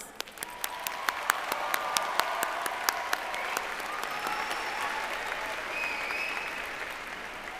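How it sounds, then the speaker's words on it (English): A graduating high school class and crowd at an evening graduation ceremony break into sustained applause, with a few sharp, distinct claps up front over a broad, even roar of clapping and some faint whistles rising above it. "please give yourself the biggest round of applause"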